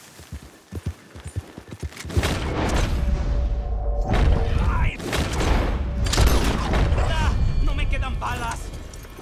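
Gunshots in Red Dead Redemption 2 while a man is rescued from a cougar: a few sharp early cracks, then heavy booming shots and rumbling noise, with speech mixed in.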